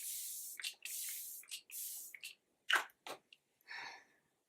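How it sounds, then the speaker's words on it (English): A setting spray mist is pumped several times in quick bursts, each a close, breathy hiss, with short pauses between them and a few softer sprays at the end. "And look at this spray."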